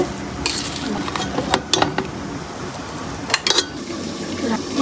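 A lid goes onto a pot of spiced chicken with a few sharp metallic clanks and clatters, set against faint kitchen background noise.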